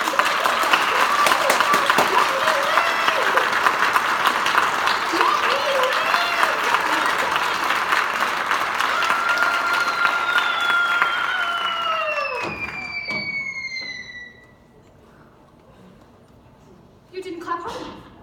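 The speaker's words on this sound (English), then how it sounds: "If you can clap hard enough, then Hansel will live." Sustained audience applause from a school crowd at a high school one-act play, dense and loud for about twelve seconds, then tapering off into quiet with a few voices calling out near the end.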